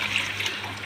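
Water pours into a pot of peeled food in a home kitchen, a steady close splashing trickle lasting under a second.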